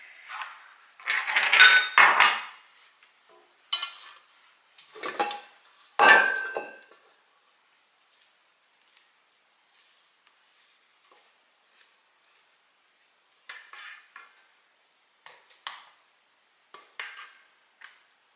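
Small spatula scraping cookie dough for bar sugar cookies into a different bowl, giving a run of close, irregular scrapes and light clinks against the bowl, busiest early on and then sparser, softer strokes with quiet gaps.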